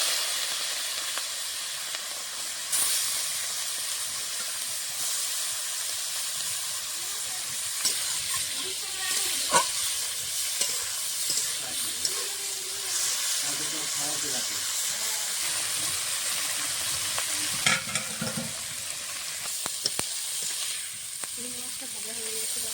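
Shrimp coated in turmeric and salt fry in hot mustard oil in a wok, giving a continuous loud sizzle and hiss with occasional clinks and clatters from stirring throughout.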